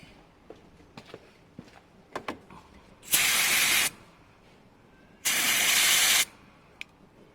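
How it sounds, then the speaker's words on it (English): Two loud bursts of carb cleaner spray hiss into a moped carburettor, each lasting about a second, separated by quieter clicks and handling noises from the bike repair. "I'm going to spray some carb cleaner in there."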